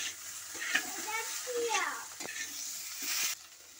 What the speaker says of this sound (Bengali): ঢ্যাঁড়সটা দিয়ে দিচ্ছি, ভালো করে এর মধ্যে নাড়াচাড়া করে নিতে হবে।